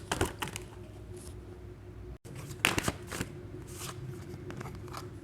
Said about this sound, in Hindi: पहले मैं कार्ड्स निकाल लूँ।